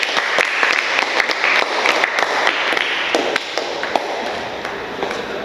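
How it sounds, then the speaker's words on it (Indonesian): A classroom of automotive engineering students claps for a presenting group, a brisk, uneven patter of hands that stays fairly loud and even for several seconds. "tepuk tangan dulu untuk kelompok 1"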